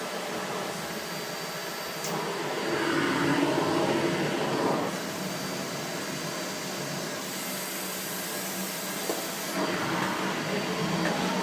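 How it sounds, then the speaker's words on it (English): A Dyson Ball Upright Animal Complete vacuum cleaner runs steadily with a broad, airy hiss and motor whine, swelling louder for a couple of seconds and easing back, with no talking. "I made hoovering harder with the hose out"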